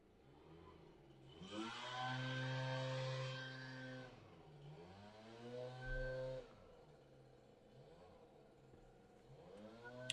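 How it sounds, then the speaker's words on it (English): A leaf blower drones outside, swelling and fading in long surges, its steady whine rising and falling in pitch, fairly close and loud, with no talking. "That leaf blower is pissing me off."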